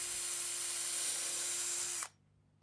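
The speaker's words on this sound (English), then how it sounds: "I'm just going to pre-drill this timber." A power drill pre-drills a hole in old, long-stored timber for a dining table build, whining steadily at close range for about two seconds and then cutting off abruptly.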